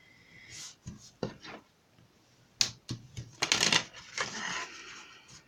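Several short scraping strokes and taps, like a tool scoring lines into paper, come in uneven bursts up close with no talking.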